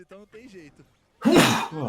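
A sneeze bursts out loud and close amid casual commentary during a live League of Legends esports broadcast, a single explosive burst followed by continued speech.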